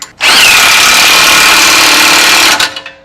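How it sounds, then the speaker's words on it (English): An electric impact wrench tightens the track bar bolts at a control arm bracket on a Jeep JK, giving one loud, close, steady whine lasting about two seconds before it cuts off and rattles briefly to a stop. "We want to have easy access for our air tools or our electric impact. We'll just tighten them up."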